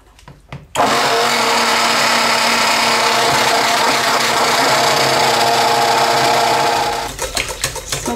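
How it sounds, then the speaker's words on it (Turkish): A hand mixer whirs loudly and steadily for several seconds while blending honey and propolis soap, starting abruptly after a few clicks and winding down to handling noises at the end. "Mikserle çekiyorum."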